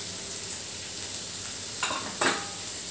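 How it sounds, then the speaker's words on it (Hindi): Onions fry lightly in oil with a low, even sizzle, and two short, brighter scraping strokes come near the end. "प्याज हमारे ये हल्के से तेल में भुन गए हैं"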